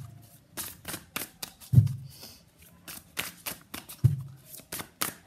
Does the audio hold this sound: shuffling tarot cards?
yes